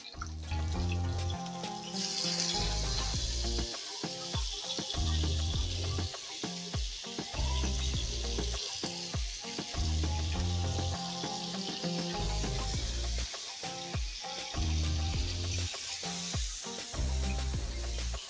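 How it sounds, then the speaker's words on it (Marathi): Paneer pieces frying in hot oil with chillies and bay leaf, giving a loud, dense, continuous sizzle with crackling throughout. "गरम झालेल्या आहेत मिरच्या आणि तेजपत्ता। यामध्ये आता आपण पनीरचे पीस टाकूया।"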